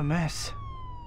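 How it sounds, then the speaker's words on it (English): Ambulance siren in the Spider-Man 2 video game, a steady high wailing tone sliding slowly downward after a brief spoken line, heard mid-distance over a low rumbling game background. "It sounds like an ambulance is coming."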